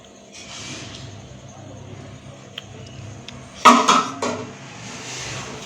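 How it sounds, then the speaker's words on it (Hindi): Uncooked rice goes into a cooking pot for chicken biryani, making a short, close clattering rattle against the metal after a quiet stretch of faint kitchen background, followed by a second smaller clink. "डालते हैं हम अपने चावल"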